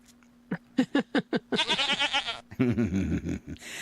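Goats bleat during a commute: five short, evenly spaced calls, then longer, wavering bleats that run together, loud and close.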